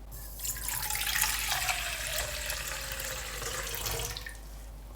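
Lukewarm water pours steadily onto dry yeast in a bowl, a close splashing rush that starts abruptly, holds for several seconds with a slowly falling tone as the bowl fills, then tapers off.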